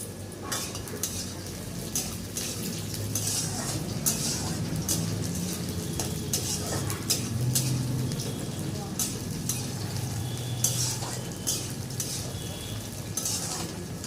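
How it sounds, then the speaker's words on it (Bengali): Potatoes fry in hot mustard oil in a wok with a steady, dense sizzle and crackle, broken by repeated scrapes and clinks of a stirring spoon against the metal. "কড়াটা গরম হলে তার মধ্যে সর্ষের তেল দিয়ে আলুগুলো খুব ভালো করে লাল লাল করে ভেজে নেব"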